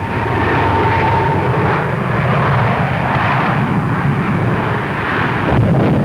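A vintage single-engine airplane drones loudly and steadily through a forced landing approach near trees, the engine note constant and close with a faint whine early on and a slight surge near the end.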